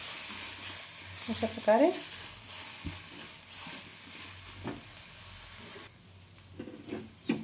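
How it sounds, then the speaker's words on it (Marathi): Rice roasting in ghee for kheer, a soft continuous sizzle with scraping stirring strokes close by, and one short spoken phrase over it. "याच्यामध्ये तूप टाकलं आणि पूर्ण तांदूळ मी भाजून घेते तुपामध्ये"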